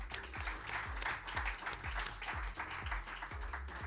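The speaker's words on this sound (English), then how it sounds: "Now I think that one definitely deserves a little round of applause." An audience applauds at the draw ceremony for the 2026 World Table Tennis team championships, steady, dense clapping from a room full of people that runs evenly without a break.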